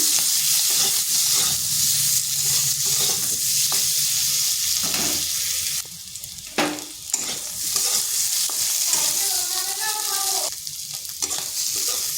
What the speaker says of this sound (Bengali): আলুটাকেও একটু ভেজে নিচ্ছি।